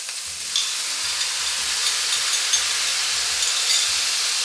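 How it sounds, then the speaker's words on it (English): Tomatoes hitting hot pork in a frying pan set to medium high, a bright continuous sizzle with a sharp burst as they land and soft stirring clatter beneath. "At this point, I will add the tomatoes"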